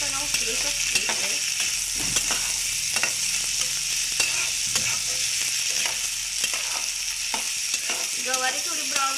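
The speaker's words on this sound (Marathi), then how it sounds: "इथं छानपैकी तेलात आपण गवारी परतून घेतलेली आहे, भाजलेली सुद्धा" Cluster beans (guar) fried in oil in a home kitchen, a constant sizzle with regular scraping and clinking as they are stirred in the pan, close and steady.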